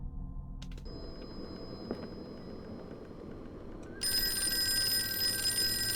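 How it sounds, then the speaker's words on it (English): Telephone ringing in the Call of Cthulhu video game, an electronic bell tone that sounds briefly near the start and then grows louder and sustained over a quiet, muffled background. "Answer the phone."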